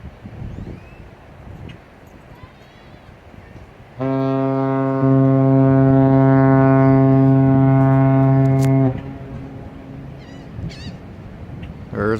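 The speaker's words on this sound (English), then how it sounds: "a big ship right there blowing its air horn going out" A big ship outbound in fog sounds its air horn, one long, loud, steady deep blast lasting about five seconds that swells partway through, with wind and quiet background noise before and after.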